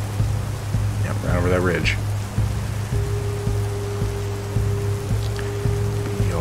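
Steady rain falls at night in the video game This Land is My Land, a constant close hiss that continues throughout, while someone talks briefly over it.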